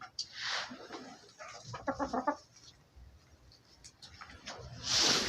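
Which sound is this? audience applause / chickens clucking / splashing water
chickens clucking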